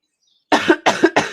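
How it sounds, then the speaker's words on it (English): Three harsh coughs in quick succession, close and loud, after a short stretch of silence. "I'm so sorry for coughing."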